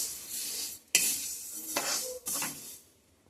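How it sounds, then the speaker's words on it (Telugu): Black sesame seeds tossed and fried in a kadai, with several scraping, rattling stirs and a faint sizzle coming in short bursts separated by brief pauses, close and fairly loud with no voices. "ఇలా కడాయి పెట్టేసి అందులో వేసేసుకొని ఒక్క 15 మినిట్స్ ఫ్రై చేసుకోవాలండి"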